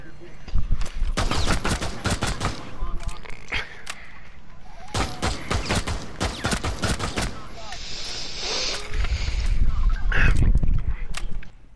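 Rapid bursts of video game gunfire, automatic volleys and single shots crackling loud and close, with shouting voices underneath throughout.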